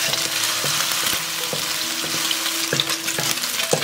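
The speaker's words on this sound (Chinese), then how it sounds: "起锅热油，把蒜跟皮蛋放进来煎香" Garlic and century egg frying in hot oil in a wok, a loud, dense, continuous sizzle with periodic stirring knocks and scrapes, heard up close with no one speaking.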